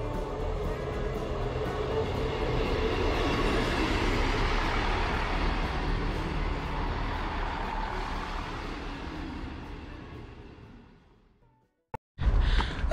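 A heavy local Northern passenger train rumbles steadily nearby as it pulls into Sherburn-in-Elmet station, a broad roar that slowly fades away into near silence, followed by a short burst of noise at the end.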